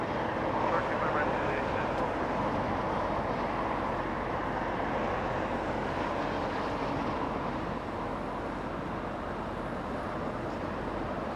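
A Boeing 747 at Los Angeles International Airport produces a continuous broad jet rumble, moderately loud and steady throughout, with a commentator talking over it.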